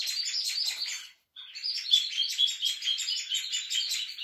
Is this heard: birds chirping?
yes